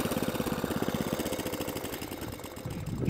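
An Atco Balmoral cylinder lawnmower engine, in need of a service, idles steadily nearby, a fast even chugging putter with slight unevenness, running alone with no talk.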